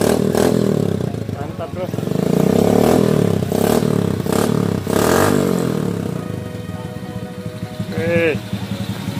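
Modified Suzuki Smash 110 motorcycle with a CB-style build, its engine running loud and close with repeated revs and a rough clattering idle, while someone talks briefly over it.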